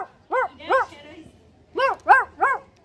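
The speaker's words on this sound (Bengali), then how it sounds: "ডগডা আবার শোনা, ডগডা" A recording of a dog barking plays nearby, two yaps, then a pause, then three more quick barks in a row, fairly loud with a faint hum underneath.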